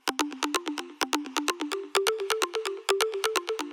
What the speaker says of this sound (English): Next up we have the pluck layer, which sounds like this.